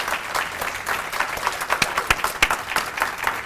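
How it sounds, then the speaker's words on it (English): An audience at a State Bar of Georgia equality awards ceremony applauds an honoree, a loud, dense burst of clapping with sharp individual claps standing out, continuous for the whole stretch. "We have got to give her a round of applause for all that she's done."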